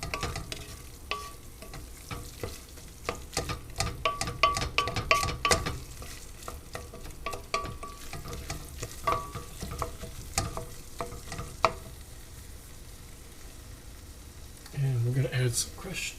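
Onion sauce with tomato paste cooking down in a pan, sizzling softly under busy stirring. Repeated clicks and scrapes from a utensil come through, with a voice faintly present at times.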